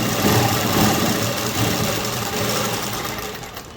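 A sewing machine runs steadily, stitching two layers of fabric at once in a continuous, loud mechanical whir that fades slightly toward the end, with no talking.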